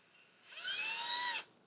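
A drill bit spins up inside a bone to bore out dried marrow for taxidermy, a single whining run of about a second that rises from a faint hum, holds a high steady pitch, then cuts off.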